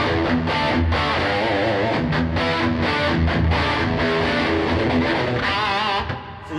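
An electric guitar driven through a RAT distortion pedal into a valve amp plays thick, sustained, heavily saturated chords, loud and unbroken, easing off only at the very end.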